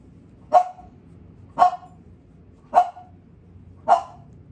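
A puppy gives four short, sharp yips or barks, evenly spaced about a second apart, close by and clear against a quiet indoor background.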